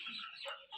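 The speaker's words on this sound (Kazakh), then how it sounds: "Жемді осылай тауысып қойып жатыр балапандар." Young chicks in a farm coop pecking at feed, a short burst of soft high clucks and cheeps, faint and close, with no talk.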